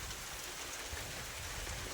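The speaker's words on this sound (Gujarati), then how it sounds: "મિત્રો વરસાદ આવ્યો છે" Steady rain falls at a village farm, a continuous, even hiss with soft low rumble and no distinct drops standing out.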